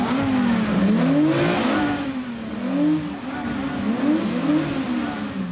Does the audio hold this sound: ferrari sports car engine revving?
yes